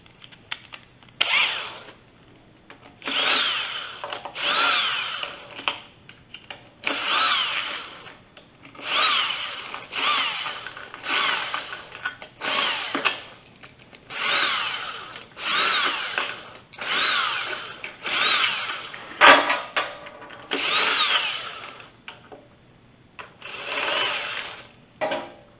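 A power driver spins out T-45 Torx bolts from a Porsche Tiptronic transfer case in about eleven repeated bursts, each a steady whirring run lasting a second or two with short quiet gaps between, close and fairly loud, no talking.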